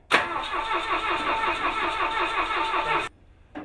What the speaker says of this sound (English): Crank it again. I don't know if our battery's going down.